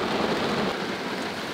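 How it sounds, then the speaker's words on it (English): Steady rain pouring down, a dense continuous hiss of drops hitting surfaces, fairly loud and close with no voices. "It's raining."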